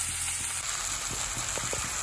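Soft, steady sizzle of tomatoes frying in onion-flavoured oil over lowered heat, faint and continuous with a few small pops and stirring ticks near the end.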